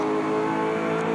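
A touring race car engine roars at high revs from inside the cockpit during a 1993 Australian Touring Car Championship race, a loud, steady onboard whine with no voices.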